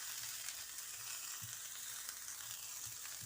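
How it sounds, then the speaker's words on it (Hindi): Finely chopped cabbage sizzles while being sautéed in a pan with garlic, a steady soft frying hiss with occasional light stirring knocks, quiet and alone. "अब मैं बंद पत्ता गोभी डालती हूँ। ये भी बारीक काटी हुई है, तो इसको भी मैं थोड़ा सौते करती हूँ"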